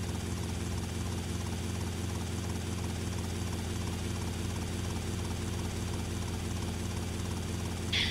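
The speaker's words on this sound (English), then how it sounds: "you definitely want to keep that helicopter as healthy as possible" In Grand Theft Auto: Vice City, a damaged helicopter is flying, giving a steady, close rotor chop and engine drone that runs unbroken throughout without any speech.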